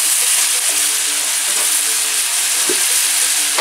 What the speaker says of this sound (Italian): La nostra salsiccia si è ben rosolata, è arrivato il momento di aggiungere i nostri broccoletti lessati.